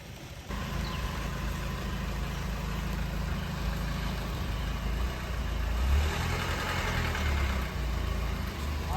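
A diesel vehicle that had sat unused for six months runs with a steady, close engine rumble, starting abruptly and holding a continuous idle with slight rises in revs.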